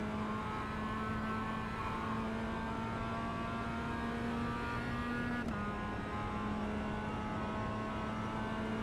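Mazda MX5 in the iRacing simulator, racing at Interlagos, holds a steady droning engine note that climbs gradually, then dips briefly during a quick shift before pulling on again.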